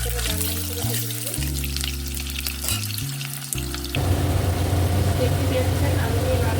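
Potatoes frying in a pan, a loud continuous sizzle that swells in the second half, with someone speaking over it at the start.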